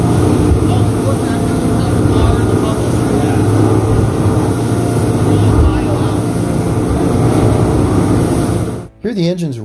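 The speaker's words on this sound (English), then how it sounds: "Hear the engines revving?" Boat engines on stock propellers roar steadily under load, a loud continuous droning hum with a rough revving texture, cutting off abruptly near the end.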